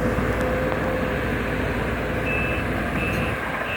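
A Sumitomo SH210 excavator works on a road-widening site clearing dirt and wood, its steady diesel drone running loud and close with repeated high warning beeps over it.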